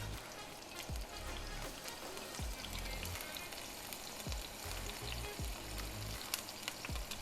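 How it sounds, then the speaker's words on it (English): Cauliflower rice and garlic sautéing in a pan, a faint steady crackling sizzle with soft periodic low thumps of stirring, heard alone without talk. "And we're going to saute that together."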